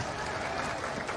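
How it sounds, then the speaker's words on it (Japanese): Brief burst of stadium crowd applause at a national stadium during a high school youth football final, a dense, distant wash of clapping with no clear talk. "拍手が沸き起こります国立競技場。"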